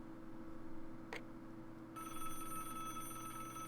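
Telephone ringing in the Broken Sword: Shadow of the Templars adventure game, a sharp brief ring burst followed by a sustained tonal ringing over a steady low hum, faint and alone.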